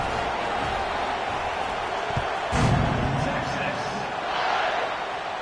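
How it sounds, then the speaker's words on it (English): Stadium crowd in the NCAA 26 college football video game keeps a steady, dense roar under a game-day broadcast, with one brief thump partway through and a slight swell near the end. "this crowd is buzzing after that last score"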